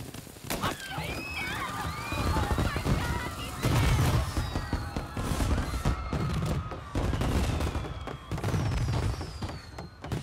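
Fireworks burst during a celebration scene in the video game Mafia: Definitive Edition, heard as a dense run of loud cracks and crackling pops over about ten seconds, with whistling streaks and other game sounds mixed in.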